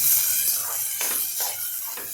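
Washed, soaked rice sautéed in a hot pan gives a steady, fairly loud sizzling hiss with soft crackling surges, heard alone for a couple of seconds.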